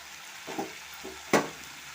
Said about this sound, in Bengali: ঢেলে দিয়ে এখন এটাও আমি আর একটু কষিয়ে নেব।